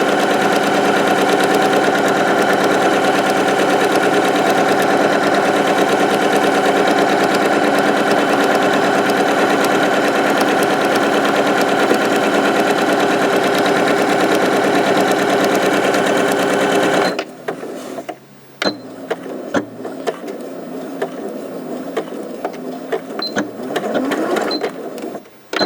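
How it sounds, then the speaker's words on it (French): A domestic sewing machine runs steadily while stitching a fabric pouch, a loud continuous whir for about seventeen seconds, then stops, leaving quieter handling noises and faint rustling. "on n'oublie pas la marche arrière. Et on coud"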